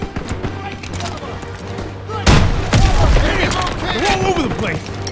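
Machine gun fire rattles in Call of Duty: WWII during the Battle of Aachen, a loud burst of rapid gunfire and booms breaking out mid-clip over a humming background, with battlefield shouting mixed in.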